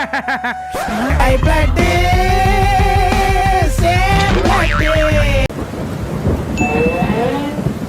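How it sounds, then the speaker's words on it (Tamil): Heavy rain with thunder rumbling beneath it, a loud sustained wash over most of the stretch, with music-like tonal layers mixed in before the downpour noise stands more on its own near the end. "மா செம்மையா மழை பெய்யுதுமா"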